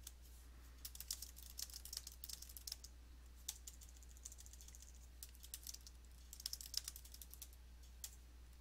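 Light typing on a computer keyboard comes in scattered bursts of soft clicks and short runs of keystrokes with pauses between, close and faint over a low steady hum.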